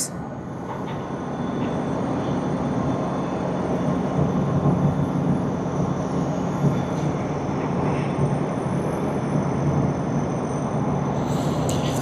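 A jet airliner taxiing at Tokyo Haneda Airport, a steady broad engine rumble and whine that holds level and close throughout, with no talk over it.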